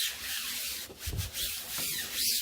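Acetate positive film being rubbed by hand onto a screen-printing screen, a soft, close, continuous brushing and scraping that swells and fades in a few strokes, with no talk.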